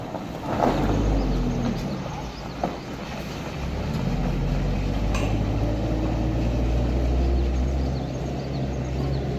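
A loaded brick-carrying truck pulls away in a hill village, its engine a steady low rumble with a brief knock partway through, fairly close and running continuously without speech.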